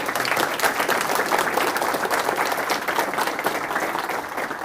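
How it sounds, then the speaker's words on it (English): A crowd at a Homeland Security awards ceremony in San Antonio, Texas breaks into a round of applause, steady, dense clapping that holds loud for several seconds and eases slightly toward the end. "Big round of applause."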